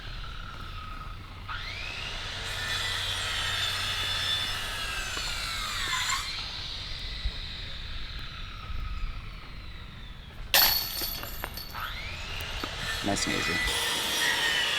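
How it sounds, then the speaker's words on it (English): Power tools whine and grind in the background of a junior disc golf championship round, a steady sawing, rasping drone that rises and cuts out several times, with a brief sharp clatter, while a person speaks briefly. "Power tools running in the background."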